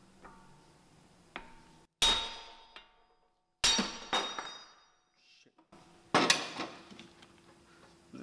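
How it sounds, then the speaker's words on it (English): Three loud metallic clangs of a 50-ounce Snap-on hammer striking a brass hammer against a Nissan wheel hub during wheel bearing work, each ringing out and fading, spaced apart with quiet gaps and faint clinks between. "I hit the brass hammer with my big hammer, my 50-ounce snap-on hammer"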